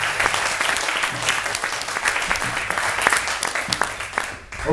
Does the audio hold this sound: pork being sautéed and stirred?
no